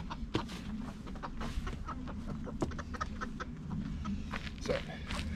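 A flock of backyard hens clucks and murmurs steadily while being offered maggots as treats, with overlapping soft calls and occasional louder squawks nearby, no talk.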